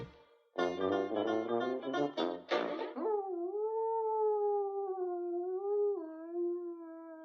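A cartoon hound dog howls long and mournfully, the sustained wavering cry rising and sliding after a short burst of lively music. The howl is performed by a voice.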